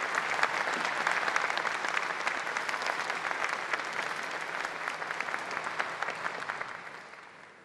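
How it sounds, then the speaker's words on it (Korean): Audience applause at the KF-21 Boramae fighter jet rollout ceremony at the KAI Sacheon plant, a sustained, dense clapping crowd that holds steady and then fades out toward the end. "큰 박수 부탁드립니다."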